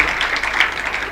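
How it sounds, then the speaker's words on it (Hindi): A live audience clapping at a Haryanvi comic poetry gathering, a brief, dense, continuous wash of applause from many hands, loud and steady throughout. "तो एक बार जोरदार इसके लिए ताली पीट दो।"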